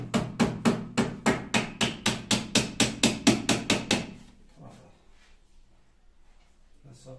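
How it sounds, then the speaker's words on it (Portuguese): Hammer driving small nails into soft wood while building a TV rack, a rapid steady run of about fifteen sharp close blows, then quiet handling noises and a faint voice. "Aí agora vou pregar os preguinhos aqui, gente."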